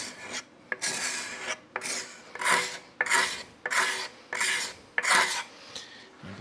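Hand scraper rasping across a turned wooden bowl spinning on a lathe, in about eight repeated dry scraping strokes with brief gaps between them, close and moderately loud.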